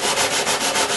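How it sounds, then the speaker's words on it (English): Sandpaper rubs back and forth over the wooden sides of an acoustic guitar, five quick rhythmic strokes heard close and loud with no talking. "Just sanding the sides,"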